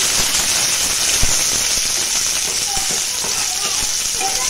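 Onion and curry leaves fry in hot oil with urad dal for upma, giving a dense, steady sizzle and crackle close up, someone talking over it.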